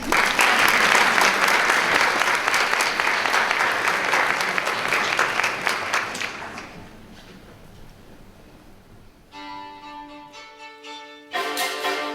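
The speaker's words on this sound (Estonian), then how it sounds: "Aplaus!" An audience at a national anniversary ceremony gives loud, sustained applause after a polka dance performance. The clapping fades out about halfway through, and a sustained musical tone then begins.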